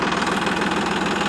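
A Massey Ferguson 9500 Smart tractor engine runs steadily in B gear, a continuous loud, close diesel drone with a rhythmic knocking pulse and no pauses.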